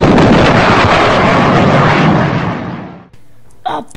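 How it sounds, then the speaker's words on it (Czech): A Minecraft explosion thunders close and loud, its roar rolling out for about three seconds before cutting off, and a brief scrap of game sound follows. "Pane bože, to byl výbuch."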